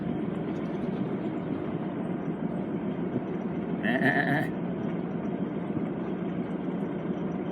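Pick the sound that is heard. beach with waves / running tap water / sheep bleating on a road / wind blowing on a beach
sheep bleating on a road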